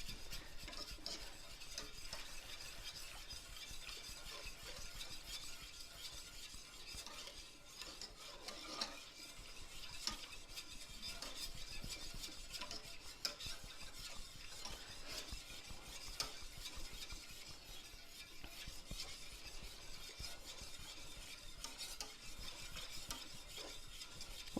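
Sausage gravy being whisked in a pan, a steady scraping, rasping stir with faint simmering underneath, continuous and close for the whole stretch with no talking.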